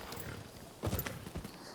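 Horse hooves clip-clopping in the samurai game Rise of the Ronin, soft steady hoofbeats at a moderate distance with a slightly stronger cluster of steps midway.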